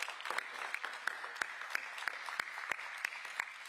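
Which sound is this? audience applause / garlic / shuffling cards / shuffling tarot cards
audience applause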